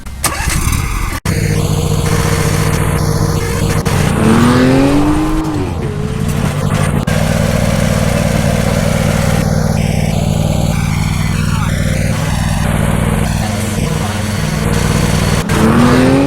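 A John Deere zero-turn mower engine cranks and catches, then revs up and down repeatedly in loud, close bursts, settling into a steady running drone.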